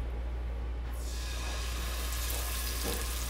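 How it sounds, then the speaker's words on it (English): Turkey necks searing in a hot pan give a steady, close sizzle that swells into a brighter hiss partway through, with no talking. "let me get these turkey necks on here"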